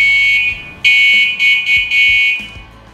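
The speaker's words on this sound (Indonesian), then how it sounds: "Justru suara sennya itu menurut gue lebih kenceng dari suara klaksonnya yang" Horn of a Goda Golden Tiger 147D electric bicycle, a shrill electronic buzzing tone sounded in several short bursts, near and fairly loud.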